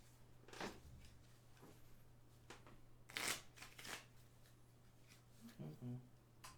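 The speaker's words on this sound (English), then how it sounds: "I'm going to shuffle up this deck" A deck of game cards from the One Deck Dungeon: Forest of Shadows card game being shuffled, with several quick riffling bursts and soft flicks close by at a quiet level.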